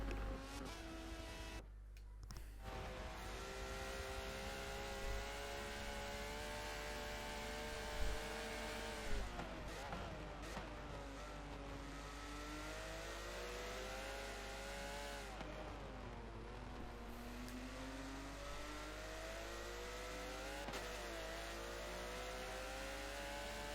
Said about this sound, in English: so we can get a different engine sound instead of that Porsche.